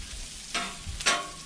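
Onions and garlic with salt and pepper frying in olive oil for a Philly cheesesteak, a low steady sizzle broken by two sharper bursts of stirring or scraping in the pan.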